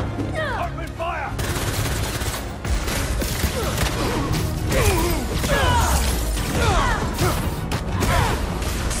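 Bursts of video-game gunfire from Marvel's Spider-Man 2 crackle through a dense, busy battle mix, repeated rapid shots over a few seconds with voices shouting in between.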